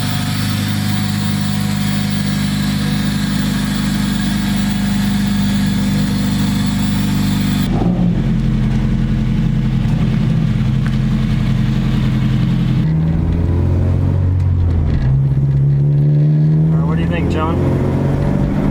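An Acura RSX drives on the road after a wheel alignment, with a loud, steady engine drone and road noise inside the cabin and occasional shifts in pitch, while people talk over it for much of the time.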